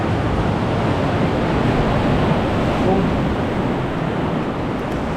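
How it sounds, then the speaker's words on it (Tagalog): Ocean waves crash and wash beside a cave at La Jolla, San Diego, making a steady dense roar that is close and loud throughout, without distinct breaks. "Kung maririnig nyo yung hampas ng alon na nandito lang sa tabi natin."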